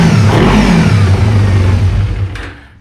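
A Kawasaki Ninja 250 motorcycle built as a CCS 300 superbike revs loudly and continuously at close range with a deep, throbbing exhaust, then the engine note drops away at the end.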